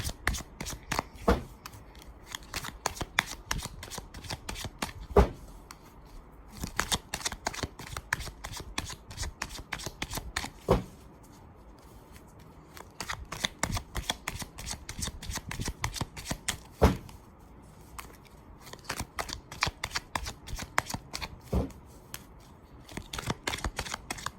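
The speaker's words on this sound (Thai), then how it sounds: "ขอพลังงานไพ่หน่อยค่ะ" Close, crisp shuffling of a tarot deck, with repeated bursts of cards slapping and fluttering in an uneven rhythm that continues from start to finish.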